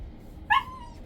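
A single short, high whimpering yip from an excited puppy, fairly close and clear over a quiet background, trailing off into a thin whine.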